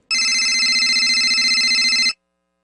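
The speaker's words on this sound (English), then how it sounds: "And my phone started to ring." Phone ringtone trilling loudly and steadily for about two seconds in a fast, even pulse, then cutting off abruptly into silence.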